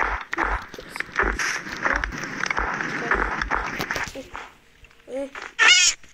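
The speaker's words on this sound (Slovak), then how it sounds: "Tu je nejaká mačka." A Minecraft cat gives two short meows near the end, after a stretch of clattering game noise and footsteps under a player's talking.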